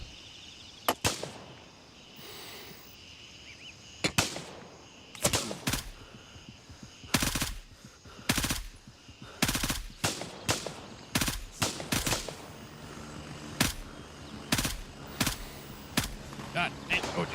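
Video game gunfire: loud, sharp single shots and short bursts ring out at irregular intervals, some close and some distant, over a quiet background.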